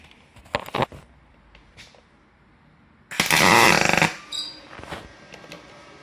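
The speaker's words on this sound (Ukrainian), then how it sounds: "Так, пробуємо варити." Pulse MIG welding of uncleaned, unbrushed aluminum with a Magnum MIG 222 LCD Dual Puls Synergy welder: a few quiet clicks, then a loud, harsh crackling arc burst lasting about a second before dying away.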